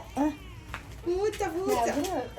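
A cat meows amid a busy household, its calls mixed with a child's and adults' voices talking over it, several drawn-out wavering cries close by.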